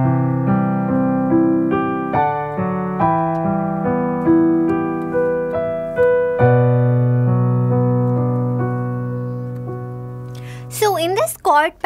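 Piano playing the Yeshua chord pattern with sustain pedal, a steady run of rolling chords whose notes ring into each other, close and clear, ending with a brief voice at the very end.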